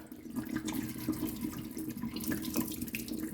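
Running tap water pours steadily into a glass jar as brine sediment is rinsed out after pickling cucumbers, a continuous close splashing and gurgling with no voices.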